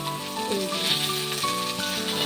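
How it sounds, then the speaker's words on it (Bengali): Steady, close sizzling of potatoes frying in oil on a traditional earthen stove, with a faint clatter of stirring and no voices. "তেলও দেওয়া হয়ে গেছে তারপরে আলু ছেড়ে দিয়েছি"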